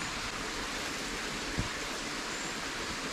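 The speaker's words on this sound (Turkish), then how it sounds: "Derenin sesini duyabiliyoruz." A stream flows beside a bamboo planting site, giving a steady, soft broadband rush of water that continues evenly throughout with a faint single knock partway through.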